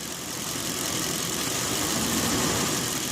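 A car engine runs steadily at a close, loud level during an ignition spark test, a continuous rumbling drone with no talk over it.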